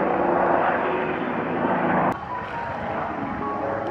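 An air ambulance helicopter at a hospital helipad in Japan passes close by with a loud, steady engine roar, then drops to a somewhat quieter, continuing drone.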